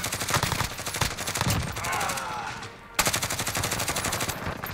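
Rapid automatic fire from a Grau 5.56 rifle in Modern Warfare during a Headquarters match, long sustained bursts of evenly spaced shots, loud and close, with a short pause before firing resumes.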